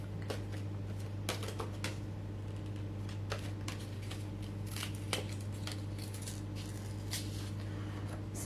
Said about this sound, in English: Let's die cut this and see how we go